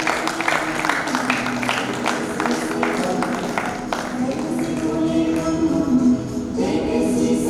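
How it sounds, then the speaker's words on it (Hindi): A crowd at an association's annual general meeting and best couple contest claps steadily and loudly, a dense wash of applause continuing throughout with murmuring voices mixed in. "जोरदार तालियां"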